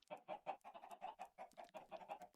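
Chickens cluck in the Minecraft video game, a rapid, rhythmic run of short clucks at close range, steady and without other sound.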